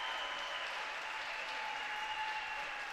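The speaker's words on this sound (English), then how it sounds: "A loud applause for the visitors from Ridge High School." A crowd at a high school basketball game applauds the visiting Ridge High School side late in the game, steady dense clapping that fills the gym at an even level throughout.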